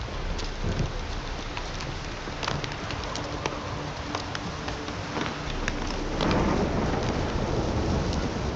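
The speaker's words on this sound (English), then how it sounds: "This downpour's a bastard" Heavy rain drums down in a swampy game world from The Witcher 3, with low thunder rolling underneath and sharp drips and splashes cutting through the dense, constant downpour.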